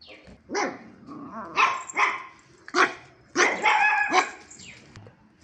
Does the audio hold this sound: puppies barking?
yes